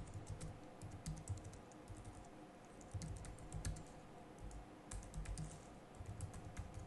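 Steady typing on a computer keyboard while entering shop details into management software, with quick irregular clicks of keys in close, quiet bursts over several seconds and no voice.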